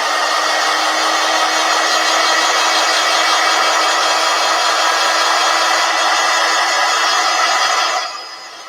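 A handheld dryer blows a loud, steady rush of air onto chalk paint on a door tag, holding an even whine for about eight seconds before cutting off abruptly.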